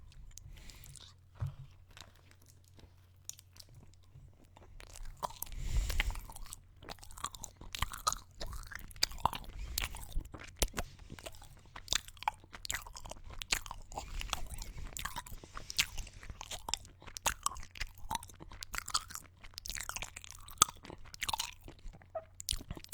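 A bagel with butter being chewed close to the microphone in a binaural recording, with repeated crunchy bites and wet mastication sounds continuing steadily throughout, quiet and intimate, with no talk.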